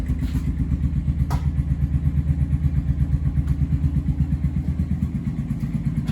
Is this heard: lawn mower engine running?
yes